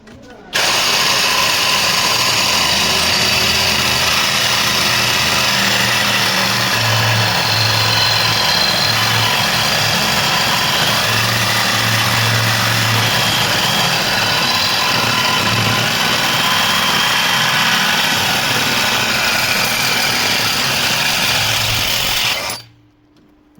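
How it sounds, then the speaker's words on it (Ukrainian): A LEADER Ultra BL20-22M cordless reciprocating saw cutting aluminium: a loud, steady power-tool drone runs throughout, grinding continuously with slight wavering, and muffled voices faintly underneath. "Поставив пилку, якою тільки що різали кутник."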